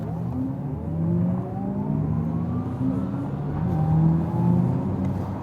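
An Audi e-tron GT electric supercar in dynamic mode accelerates hard, its synthetic electric drive tone rising in pitch over several seconds with road and wind rumble beneath, heard from inside the cabin.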